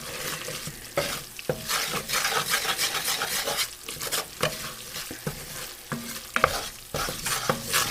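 Beef and chicken pot pie filling being stirred in a hot pan, with a spoon scraping and dragging through the food over a continuous close sizzle.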